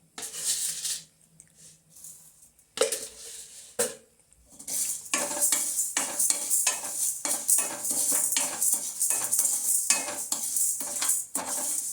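Chana dal and urad dal dry roast in a pan, making a steady rattling, scraping stir with a faint sizzle. Brief pauses break the stirring before it returns busier and continuous, heard close and with no talking.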